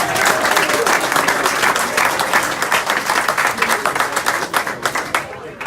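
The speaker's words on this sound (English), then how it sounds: "Big round of applause for Rotherham Titans." A clubhouse crowd applauds the Rotherham Titans rugby team after their win over Cinderford, a loud sustained wash of many hands clapping, settling into scattered, more separate claps toward the end.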